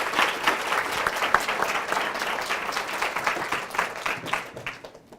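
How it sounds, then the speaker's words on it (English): Audience applause welcoming a guest lecturer at a talk on teaching, a dense, steady patter of many hands clapping together, fairly close and sustained, tapering slightly at the end. "So let's give Dr. Gallimore a warm round of applause"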